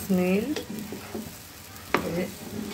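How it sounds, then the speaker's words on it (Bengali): A mixed preparation being stirred and fried in a pan gives a soft, steady sizzle with scraping spoon strokes and a sharper clatter near the end, and a voice briefly sounds at the start and again later. "এই যে মিশানো হয়ে গেছে, এখন ভালো করে ভেজে নিব।"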